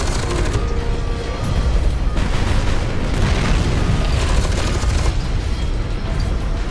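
Rocket explosions in the shooter F.E.A.R. 2: Project Origin, a loud, continuous barrage of deep booms and blasts with rumbling debris, heavy bursts stacking over one another for several seconds.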